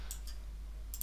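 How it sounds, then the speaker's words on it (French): Two or three quick, sharp clicks of the F12 key being pressed on a computer keyboard, close and fairly quiet over a steady low hum. "F12 de mon clavier, la console s'ouvre"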